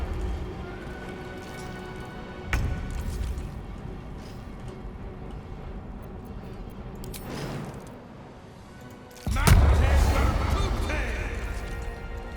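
Video game explosions burst out twice, a sharp crash and then a longer, louder blast, over a steady bed of in-game sound.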